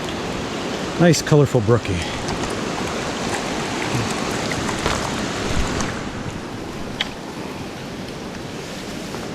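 Rain falls steadily on a Pennsylvania mountain stream, a constant broadband hiss of rushing water, with someone speaking briefly over it near the start.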